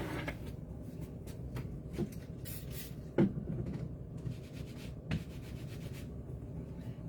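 A rubber stamp is scrubbed clean with a scrub pad in quiet, uneven rubbing strokes, with a few sharper knocks and clicks in between, close by and faint, no voices.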